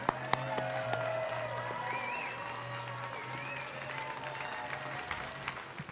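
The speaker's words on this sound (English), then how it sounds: "give us the biggest applause we can for all the Westmores" An audience at a tribute event for the Westmore family bursts into sustained applause, dense and steady clapping from a large crowd that continues throughout at an even level, with a low hum underneath.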